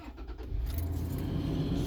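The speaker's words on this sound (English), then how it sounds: "So now I'll fire the truck up." A truck engine cranks and catches near the start, then settles into a steady low rumble that fills the rest of the moment, with a light metallic jingle like keys early on.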